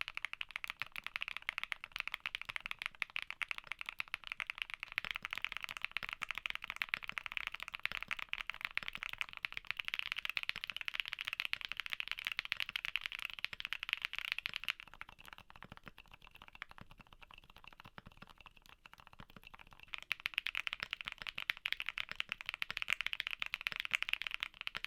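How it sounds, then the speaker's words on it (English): Mechanical keyboard switches are typed on in continuous fast bursts for about 25 seconds, a dense, close clatter of keystrokes that dips quieter in the middle section and then returns to full volume, with no talk. "Now, here are back-to-back sound tests for the switches we talked about today."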